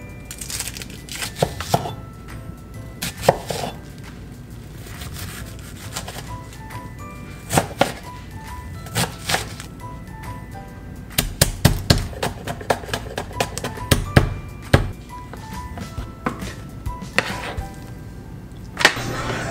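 A knife chops ingredients for pancit on a kitchen cutting board in irregular bursts of sharp thwacks, some rapid and clustered, others isolated, separated by quieter handling and shuffling sounds.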